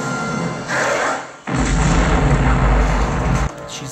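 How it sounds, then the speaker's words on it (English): A grenade explosion from the film Aliens lands as a deep, heavy boom that swells and holds with a low rumble for about two seconds before cutting off, following a rushing build-up. "The grenade."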